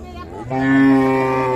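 A young Friesian bull calf moos at a village cattle market in Dinajpur, giving one loud, close, drawn-out call that starts partway in and holds steady to the end.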